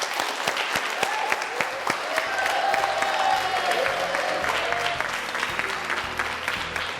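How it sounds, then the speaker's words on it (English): A school audience gives sustained applause as a cup is collected, a thick, even roar of many hands clapping near and loud throughout, with faint crowd murmur beneath. "big round of applause"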